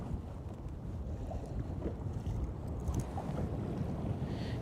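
Steady breeze rumbling across the microphone on Lake Guntersville during a fishing outing, a constant low buffeting roar with faint boat and water noise beneath, no voices.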